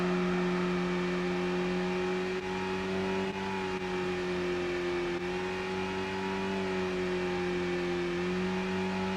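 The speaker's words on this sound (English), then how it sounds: "God, listen to that engine." A car engine in Gran Turismo 4 drones at full throttle, a loud, steady buzzing tone that rises and dips only slightly as it holds speed, with no talking over it.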